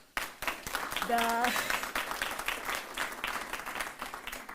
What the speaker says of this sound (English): you guys can help me in giving a big round of applause